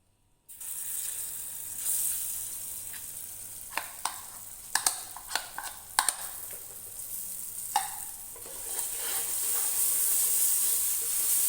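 Ground moong dal paste, going into roasted semolina for halwa, frying in a pan: a hiss that builds steadily, with sharp scrapes and taps of stirring in the middle.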